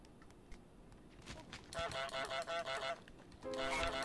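Repeated honks from the goose in Untitled Goose Game, a quick run of about six bright, nasal blasts followed by a longer sustained honk, loud and close over faint background game sounds.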